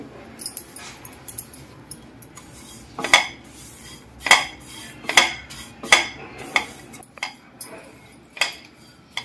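Half a kilo of dried coconut roasting in a pan on a home kitchen stove, heard as a series of sharp metallic scrapes and clinks of a utensil stirring against the pan, roughly evenly spaced, over low background noise.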